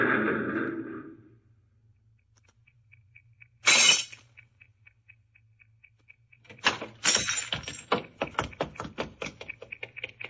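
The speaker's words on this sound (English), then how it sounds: "Suddenly it swerves toward the curb, smashes into the rear of a parked car," A taxi cab swerves toward the curb and smashes into the rear of a parked car, heard as a sharp isolated crash followed by a burst of breaking glass and scattered clinking debris over a faint low hum.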